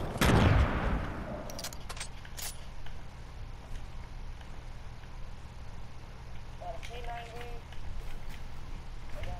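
Scattered gunfire from the video game Fortnite, with a cluster of quick shots early on and another burst near the end, heard at moderate distance over steady game ambience.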